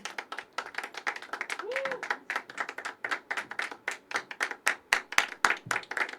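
A small audience at a poetry open mic at The Habitat claps, with distinct individual hand claps that start scattered and grow quicker and denser, close and fairly clear.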